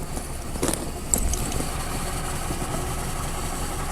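A truck engine idles with a steady low rumble, close by, with a couple of faint clunks early on; no one speaks.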